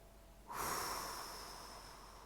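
A single slow, steady breath, an audible airy exhalation that rises suddenly and then tapers gently over about two seconds, close to the microphone and alone, with no talking.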